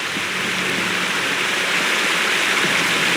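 Waterfall in the video game Wuthering Waves, a dense, steady rushing roar of falling water that stays loud and even throughout, with no voices.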